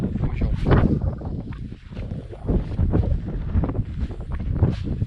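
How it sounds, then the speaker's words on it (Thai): Strong wind blows at a reservoir campsite, loud gusty buffeting against the microphone that rises and falls in rough surges over the whole stretch. "ลมแรงมากจริงๆ"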